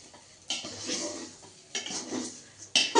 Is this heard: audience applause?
no